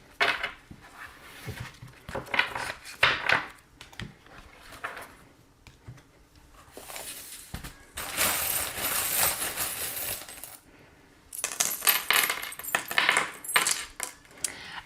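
Small metal tarot charms shuffled together, giving bright jingling, clinking bursts that swell and fade over several handfuls, close up with no talking.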